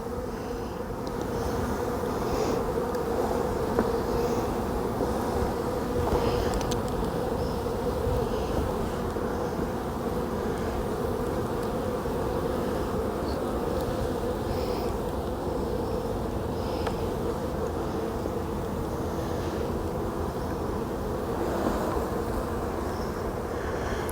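A thick, continuous drone of many honey bees fills the air, close and steady with no pauses.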